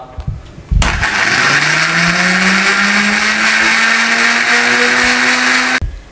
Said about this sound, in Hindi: आधा कप सिरके का इसमें डाल दें और इसको ग्राइंड कर लें सब्ज़ मिर्चों को